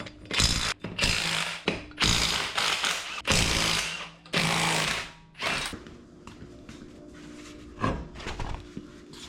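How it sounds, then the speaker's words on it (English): Someone removes 21 mm lug nuts from a Jeep Cherokee XJ wheel, giving close repeated bursts of ratcheting and metallic clatter with brief pauses, the bursts fading into quieter clicks near the end. "So these are 21 mil lug nuts. We're just going to remove them."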